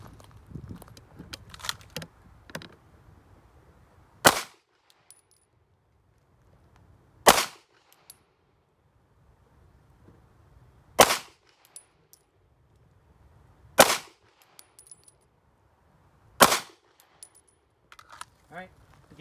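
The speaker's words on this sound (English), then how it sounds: "5 shots, slow fire" Five pistol shots ring out at a slow, even pace during a Dot Torture drill, each a sharp loud crack a few seconds apart, with faint handling noises and quiet range ambience between them.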